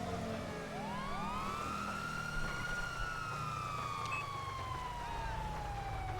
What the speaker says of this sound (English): We're going to turn the siren off so they don't know exactly when we're showing